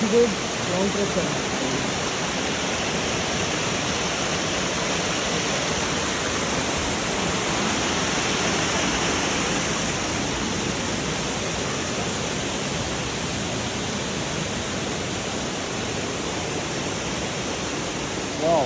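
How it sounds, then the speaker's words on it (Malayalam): A small waterfall in Martvili Canyon, Georgia gives a steady, broad rush of falling water, even and continuous at moderate distance with no clear voices. "ഇതാണ് അപ്പം നമ്മളെ മടുവിലെ ചെറിയൊരു വെള്ളച്ചാട്ടം കണ്ടുകൊണ്ടത്"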